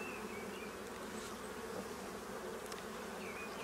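Honeybees hum in a dense, continuous drone during a spring hive inspection, close and steady throughout, with no voices.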